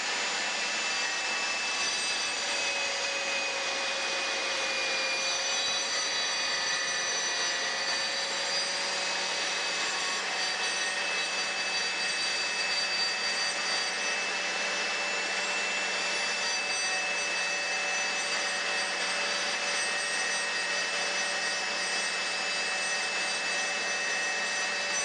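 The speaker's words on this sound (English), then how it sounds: "Holding the workpiece against the rip fence, slowly feed the workpiece into the saw." GMC laminate saw held at full speed as a workpiece is fed along the rip fence: a steady, unbroken motor whine with a faint cutting rasp, close and constant throughout.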